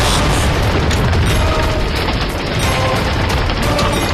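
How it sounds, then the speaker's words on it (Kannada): A heavy explosion booms as a protective shield around a pot of nectar is destroyed, a loud, sustained roaring blast with crackling debris that barely eases off. "ಈ ಸ್ಫೋಟದ ಧ್ವನಿ ಎಲ್ಲಿಂದ?"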